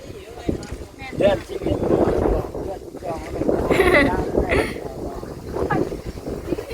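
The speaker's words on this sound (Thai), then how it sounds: "พอดีลมตีเนาะ อย่าลมพัดตอนนี้นะงะ" Gusty wind blows across a house roof while roofers work, a rough, steady rushing that swells and fades over several seconds, with people talking over it throughout.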